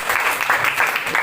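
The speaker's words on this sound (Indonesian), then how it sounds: "tepuk tangan dulu lagi." Brief burst of audience clapping at a university event in Indonesia, dense and fairly loud, heard alone for just over a second.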